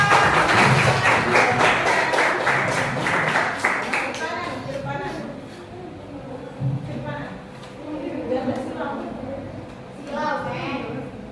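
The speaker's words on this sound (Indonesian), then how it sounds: "Tepuk tangan buat kelompok 4" A class claps for a student group in a school lesson. The burst of applause is strongest at the start, then thins into scattered claps and taps with voices talking over it.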